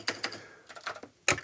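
Key clicks from a new mechanical keyboard built for an Amiga 1200, with several clustered bursts of sharp clacks, then a pause and a louder final flurry, close and clear with no voices.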